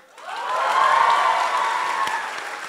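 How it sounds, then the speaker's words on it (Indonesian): Students in a Bandung hall applaud with scattered cheers, a broad crowd sound that swells quickly and holds steady for a few seconds before easing off slightly. "Tadi boleh tepuk tangan yang mahasiswa?"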